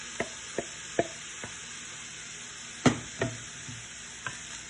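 A spatula scrapes and knocks through ground beef and garlic in a pan over a steady sizzle, with about eight sharp clacks spaced irregularly, one heavier scrape near the middle, close and fairly loud.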